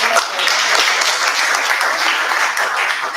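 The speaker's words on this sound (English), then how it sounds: "Let's give him a good round of applause as well." A steady, dense round of audience applause at a Toastmasters club meeting, close and full throughout with no talk rising above it.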